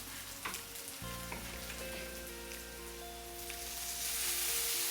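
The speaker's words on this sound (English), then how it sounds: "And now my steak goes in." A steak goes into a hot skillet with a steak hash and lands in a loud, steady sizzle of frying that carries on without pause, close and continuous.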